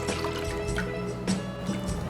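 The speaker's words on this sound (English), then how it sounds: "we're gonna add about 2 tablespoons of Worcestershire sauce" Worcestershire sauce poured into a pot of beef stock, a short soft liquid trickle with small drips over a steady low kitchen background, close and quiet, no talking.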